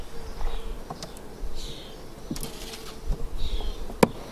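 Honey bees buzzing around an open hive with queen cells, a low steady hum with faint rising and falling whines of individual bees passing close, plus a few light knocks and clicks.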